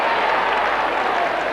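A football crowd at Windy Hill cheers and applauds a kick at goal in a 1990 Essendon versus West Coast match, a loud, steady roar of clapping and voices filling the whole moment.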